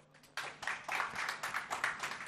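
Conference audience applauding to welcome panel speakers at a tech event, a short burst of scattered, moderately faint clapping with no voices.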